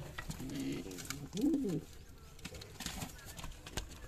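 Pigeons coo in a coop holding a nesting bird with two eggs, giving soft low murmuring calls in two short bursts amid faint shuffling and background noise.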